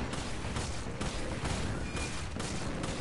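Gunfire in the game Resident Evil 5: a continuous dense barrage of shots and blasts, loud and unbroken throughout, with no clear gaps between the reports.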